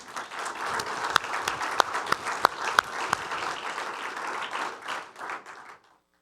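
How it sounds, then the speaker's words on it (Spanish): Church congregation applauding, a dense, steady burst of clapping with a few sharp louder claps standing out, lasting about six seconds before cutting off into silence. "Yo creo que merece un aplauso, ¿no?"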